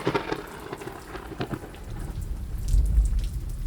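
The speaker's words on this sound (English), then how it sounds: "A deafening crack of thunder followed." A thunderstorm sound effect: steady heavy rain patters throughout while a deep rumbling thunder crack swells loudly toward the end, with no voices.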